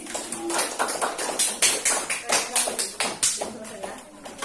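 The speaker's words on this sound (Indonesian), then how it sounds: "Tepuk tangan dulu untuk kelompok manggis." A classroom group claps for the manggis team in a run of sharp hand claps that rise and fall, with voices murmuring underneath.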